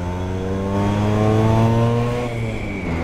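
A Vespa scooter engine revs hard in second gear, a loud, close, rising drone with strong harmonics that climbs and swells, then eases off slightly near the end.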